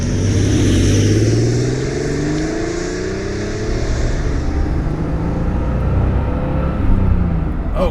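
A 1982 Porsche 930 Turbo Slant Nose with a German-market 3.3-litre single-turbo engine and four-speed gearbox revs and pulls away, its engine note rising and sweeping up through the gears, loud and close, then fading slightly.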